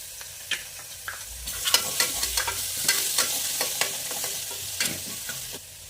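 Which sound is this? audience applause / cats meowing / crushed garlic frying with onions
crushed garlic frying with onions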